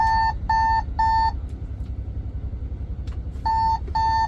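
A warning alarm from a truck's AI vehicle-detection camera system sounds as a loud, close series of electronic beeps: three even bursts, a pause, then two more, over a low engine-like hum.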